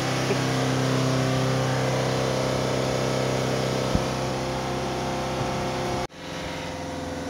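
A Volvo S40 engine, smoking during a diesel additive service, is held at high revs against the rev limiter in a loud steady drone, then cuts abruptly and settles to a lower idle.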